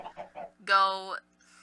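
A few short, soft clucks, then a longer, louder squawking call from a nearby chicken.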